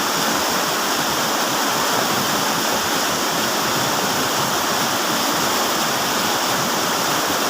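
A waterfall close by, with a steady, dense roar of falling water that stays loud and unbroken throughout, and no voices.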